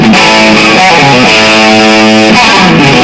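Distorted electric guitar plays a lick, a loud, close run of clear sustained notes with quick pull-off transitions, alone with no talk.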